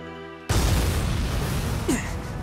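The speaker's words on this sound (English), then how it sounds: "An explosion has occurred on board." Explosion on board a ship in Valkyria Chronicles 4: a sudden loud boom bursts in after a moment of quiet tone, then a rumbling roar lingers with a brief sweeping whine.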